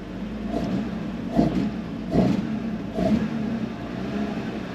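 A BMW E36 325i fitted with an M3 individual throttle body intake revs four times in steady pulses, each blip swelling and falling back to idle, close and moderately loud.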